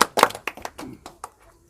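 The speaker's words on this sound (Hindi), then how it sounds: "तालियां।" Audience clapping at a political gathering, a handful of sharp, scattered claps that fade out within about a second and a half.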